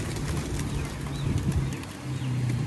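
Low, soft pigeon cooing mixes with rustling and brief fluttering of wings at a pigeon feeding square, all fairly close against a steady outdoor background.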